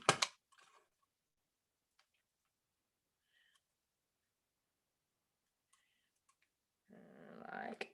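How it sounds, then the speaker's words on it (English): A small paper trimmer slices through cardstock with a short sharp swipe at the start, followed by faint clicks and a softer rasping cut near the end in an otherwise quiet room. "Now I'm going to bring in my little baby trimmer and trim that down a little bit."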